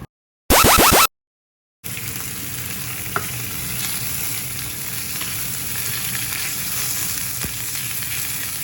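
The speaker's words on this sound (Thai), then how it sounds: "เราก็ใส่เนื้อหมูลงไปผัดค่ะ" Pork stir-fried in a pan after garlic has been fried, a loud continuous sizzle with scraping stir strokes, heard close and alone for several seconds.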